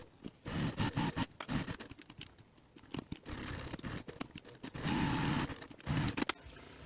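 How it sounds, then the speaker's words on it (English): Sewing machine stitching the exterior gusset of a business bag with an 1/8 inch seam allowance, running up, across by a D-ring and back down, heard as irregular close bursts of stitching with short pauses and handling noise. "So again, stitching this with 1/8 of an inch seam allowance up, across by the D-ring,"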